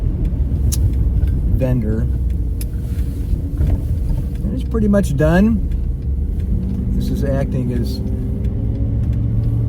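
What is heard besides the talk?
1971 Mercedes 280SE 3.5 Cabriolet driving on a road test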